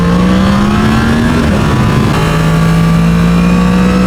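A Yamaha MT-10 SP motorcycle on a test ride, its engine droning loud and close, holding a steady tone that rises, dips briefly and settles again, with rushing wind behind it and no talk.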